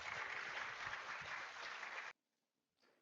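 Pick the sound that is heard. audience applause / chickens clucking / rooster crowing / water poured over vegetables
audience applause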